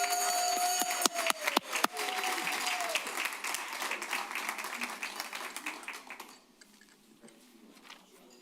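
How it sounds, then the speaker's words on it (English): Audience applause at a school board of education regular meeting, a dense, lively round of clapping that gradually thins and fades out toward the end, alone without speech. "let's a big round of applause to our team"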